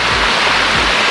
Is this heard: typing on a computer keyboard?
no